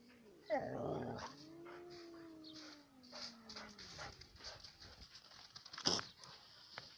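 A dog growls low and drawn out, rising into a whining tone, followed by faint shuffling and a brief yip, fairly quiet and close.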